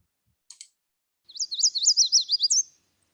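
Bird song recorded along the Missisquoi and Trout Rivers: a quick run of bright, rising and falling chirps lasting over a second, preceded by two brief soft ticks, clear and fairly close against silence.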